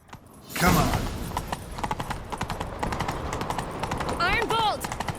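Hooves clip-clop rapidly as a horse gallops in The Witcher 3, a steady close rhythm of hoofbeats with a brief whinny near the end and voices speaking over it.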